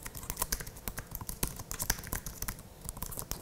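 Quick, irregular key clicks come from typing on a rechargeable Apple Magic Keyboard: light, crisp taps in close succession with brief pauses.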